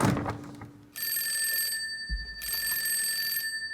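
A telephone bell rings in a radio drama, two long bursts, bright and metallic, separated by a short pause, with a brief low thump between rings.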